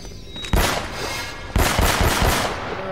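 Gunfire in Uncharted: Drake's Fortune comes in two sharp, loud bursts of rapid shots about a second apart, each trailing into rattling echoes.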